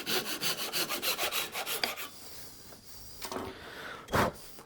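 Bandsaw cutting a piece of wood to remove excess length for a circle cut jig, a steady rasping buzz of the blade through timber lasting about two seconds, followed by quieter running and a brief loud burst near the end.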